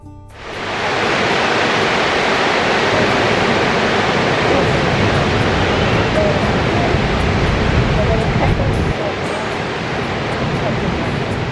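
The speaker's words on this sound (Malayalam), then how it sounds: "ഈ ഹോഷു വാട്ടർഫോൾസിൻ്റെ ഏറ്റവും അടുത്തു നിന്നാണ് വീഡിയോ എടുക്കുന്നത്" Niagara Falls roars up close, seen from the Canadian side, a loud, dense, steady rush of water that fills the whole clip without a break.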